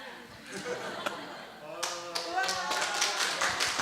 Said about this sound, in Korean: 우와, 박수, 박수, 야, 박수.